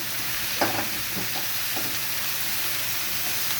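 Malabar spinach fries in a pan with green chili, cumin and turmeric, giving a loud, steady sizzle with a few soft scraping stirs near the start.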